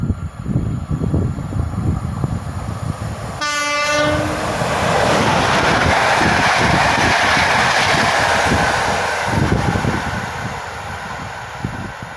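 A passenger train with a yellow front, heading from Katowice to Gdynia, blows its horn and then rushes past at over 120 km/h with a loud, sustained roar and rail clatter close by.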